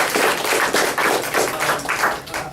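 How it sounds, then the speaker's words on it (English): Applause from a small group at a real estate office team meeting, a steady patter of hand claps across the whole moment, fairly close and moderately loud, with no talking over it. "can we give her applause?"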